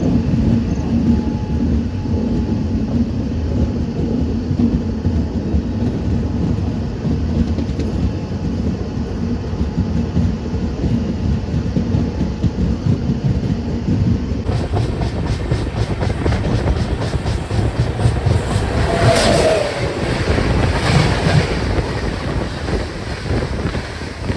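The Mumbai Delhi YUVA AC SF Express runs at high speed, a loud continuous roar of wheels and rushing wind that swells and brightens partway through, with no voices.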